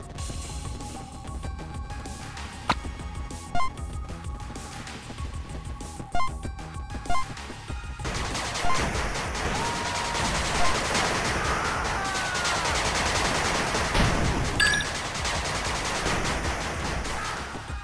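A machine gun turret firing in the video game 8-Bit Armies: scattered game shots at first, then dense continuous bursts of gunfire with sharp cracks, loud and close, and no talk.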